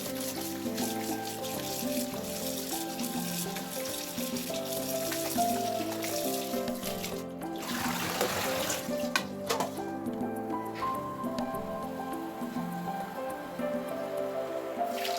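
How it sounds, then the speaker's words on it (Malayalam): Cabbage is rinsed in a perforated vessel under running water, giving close, continuous splashing and dripping with a brief louder gush partway through, no speech. "അപ്പോൾ ഞാനിങ്ങനെ ഉണ്ട് കേബേജ് കഴുകിയെടുക്കൽ."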